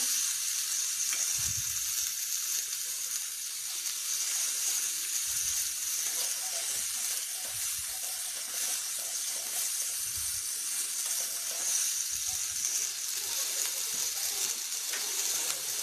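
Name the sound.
potatoes frying with salt and turmeric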